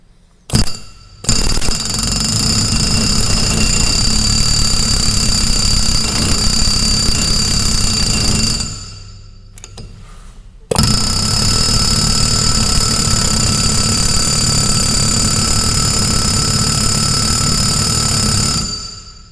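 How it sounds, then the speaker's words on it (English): A big air hammer rattles loudly against corn head parts in long, continuous bursts, pausing briefly and then hammering again until it stops abruptly. "This is the big air hammer."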